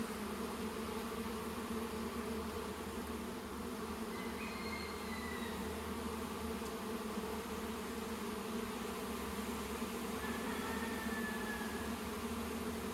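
Honeybees buzz continuously during a hive inspection, a dense steady hum close by with a few individual bees whining past, no voices.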